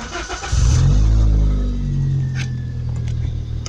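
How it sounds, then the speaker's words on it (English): A modified Toyota Corolla engine starts and revs up, then settles into a steady running idle, loud and close with no talking over it. "As you can hear, that's the car actually running."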